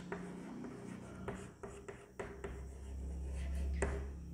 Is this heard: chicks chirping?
no